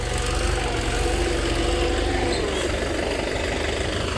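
A tractor engine runs steadily in a farm field while the tractor is stuck in a pit, a loud, constant low rumble with no pauses and no talk.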